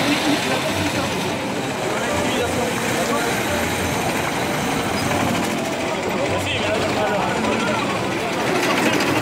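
A loud, rough engine drones continuously up close, with a harsh mechanical rattle and no pauses.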